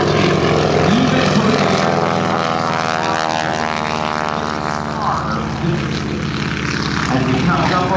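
An underpowered aerobatic propeller plane performs at the 2008 Blue Angels Homecoming air show, its engine droning loudly overhead with shifting pitch as it maneuvers while a commentator talks over it.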